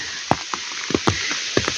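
Raindrops fall in a forest during a mushroom hunt, landing as a few scattered, sharp taps on leaves over a steady soft hiss of rain, close by with no talking.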